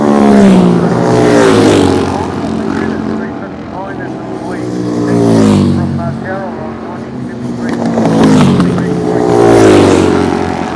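Motorcycle race engines rev and whine in long rising and falling swells that pass close by, loud and continuous, with overlapping high-pitched tones from several bikes.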